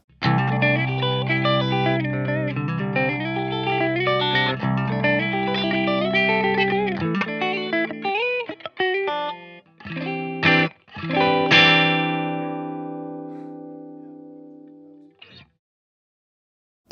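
A guitar plays through a metal tube amp head on a clean setting, a sustained chord-driven passage that thins into choppy single notes and a final ringing chord fading out, heard alone with no talking.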